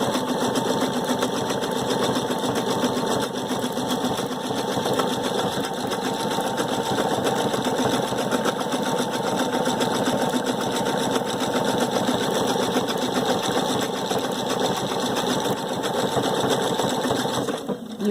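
A Viking Sapphire 930 sewing machine running steadily while doing bobbin work, a continuous fast mechanical whir with rhythmic needle clatter, close and loud, slowing only at the very end.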